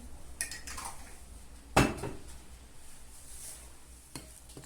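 A spoon stirs a Turkish white bean salad in a bowl: soft scraping with one sharp clink of metal on the dish partway through and a lighter tap near the end, with no speech.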